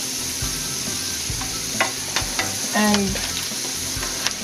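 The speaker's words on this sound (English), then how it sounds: "continue frying a little bit at a time" French fries frying in hot oil, a constant crackling sizzle with sharper pops and stirring clinks of a utensil, close up, with a brief spoken word.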